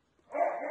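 A dog barks once, a single sustained, slightly whiny bark or howl that rises quickly and holds, close and clear, with no talk.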